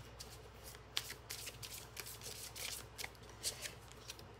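Oracle cards riffle and shuffle in a quiet room, with soft repeated flicks and card slaps in short bursts, close and fairly faint, with no talking.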